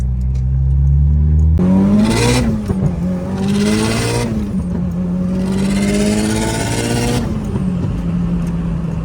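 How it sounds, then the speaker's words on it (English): Turbocharged Acura TSX running 18 psi, engine droning loud and close, then revving up and down through several pulls with rising and falling tone; individual backfire pops are not clearly distinct. "Damn, those backfires."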